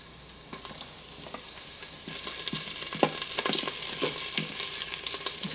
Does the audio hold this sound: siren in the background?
no